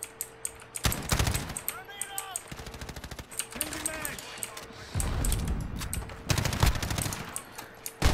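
Rapid automatic gunfire in the video game Call of Duty Modern Warfare, loud bursts of rattling shots in several volleys with brief pauses, while people talk over it.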